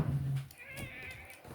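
A cat meows once up close, its voice rising then holding a steady wavering tone before tapering off, with low rumbling noise at the very start.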